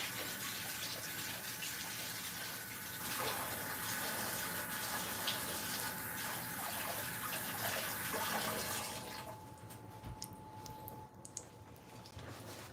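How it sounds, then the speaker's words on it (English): Running tap water splashing steadily into a sink while a spoon is rinsed, close and continuous, then the flow stops, leaving faint clinks and kitchen sounds. "Let me rinse off the spoon."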